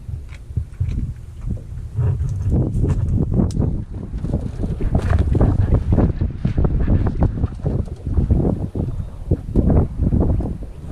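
Wind blows over a small fishing boat on open water, a loud, continuous, gusty buffeting that roars and surges against the microphone for the whole stretch, with no voices.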